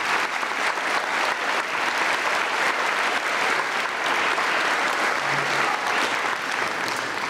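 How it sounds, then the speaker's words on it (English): An elementary school audience at a testing awards event applauds the staff with dense, sustained clapping from a crowd that holds steady for several seconds. "let's give a round of applause to our staff"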